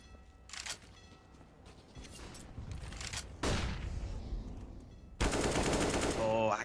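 Gunfire in a competitive shooter video game match: rapid automatic bursts in several separate volleys, moderately loud, with a final sustained burst near the end.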